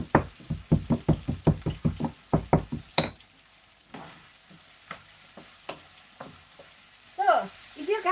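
Garlic is crushed with salt in a mortar, a rapid series of about a dozen sharp, even knocks close by, followed by a quieter stretch with a few scattered taps and faint rustling.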